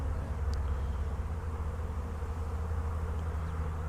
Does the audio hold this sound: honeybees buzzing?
yes